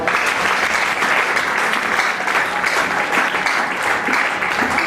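A church congregation claps and cheers in praise during a service, steady loud applause filling the room without a break.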